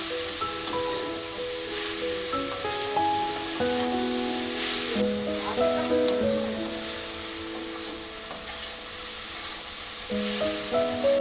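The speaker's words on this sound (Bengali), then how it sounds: "চিনিটা যতক্ষণ না নারকেলের সঙ্গে ভালোভাবে মিশিয়ে যাচ্ছে ততক্ষণ আমি চিনিটা ভালো করে নাড়তেই থাকবো" Powdered sugar is stirred into a coconut filling in a pan for modak, a continuous soft sizzle and scraping with music playing throughout.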